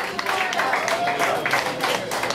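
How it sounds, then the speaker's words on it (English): Crowd applause and cheering at a benefit party in a sports bar, a steady wash of clapping with voices mixed in throughout. "Applause for Rob from Sports Bar for hosting this party"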